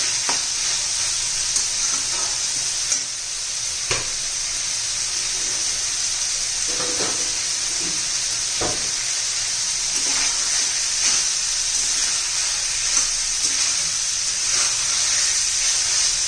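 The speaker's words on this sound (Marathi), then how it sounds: "तेलामध्ये आता चांगलं आपण परतून घेणार आहोत म्हणजे चांगली टेस्ट येते" Potatoes, cluster beans and sprouted moth beans fry in hot oil, giving a steady close sizzle with occasional scrapes and clicks of stirring throughout.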